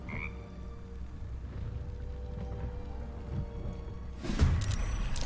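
A frog croaks in the video game Baldur's Gate 3, a low, rumbling croak over steady ambience, ending in a sudden louder burst of game sound.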